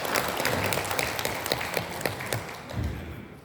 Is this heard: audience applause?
yes